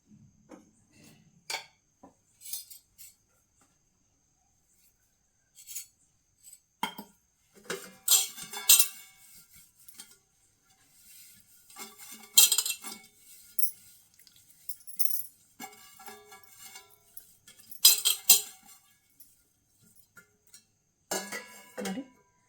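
A metal steamer pot is handled while being greased with ghee before steaming modak, giving sparse, faint clinks and clatters of metal utensils separated by quiet pauses.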